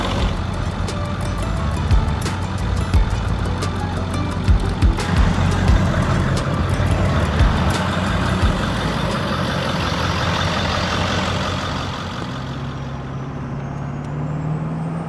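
A truck engine runs under load during a road test drive, its drone steady with bursts of clatter and rumble from the cab, easing off toward the end; no one speaks.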